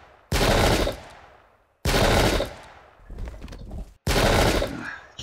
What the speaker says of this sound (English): Just lots of gunfire.